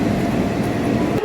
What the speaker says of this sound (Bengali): আমাদের ট্রেন এসে গেল, এবার আমরা ট্রেনে উঠবো, কাটোয়া লোকাল।